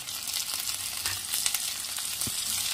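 Onions sizzle and fry steadily in a pan with garlic paste and chopped tomato, a continuous close crackling hiss with occasional stirring scrapes and no talk.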